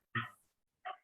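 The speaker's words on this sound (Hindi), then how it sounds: "इधर जरा कुत्ते भौंक रहे कोई हैं बात नहीं" Two short dog barks, a fairly close one followed by a fainter one a moment later, with quiet between.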